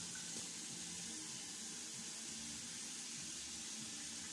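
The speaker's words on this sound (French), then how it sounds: "Là, je vais mettre de l'eau dans ma casserole." Tap water runs steadily into a saucepan in a home kitchen, a faint continuous hiss and splash with no talk.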